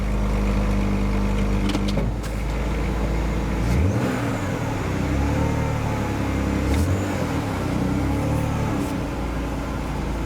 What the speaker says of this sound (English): this is vibrating the whole car.